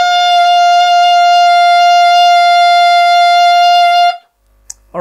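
A single high D held on an alto saxophone, one steady bright sustained tone for about four seconds before it stops, followed by a faint click.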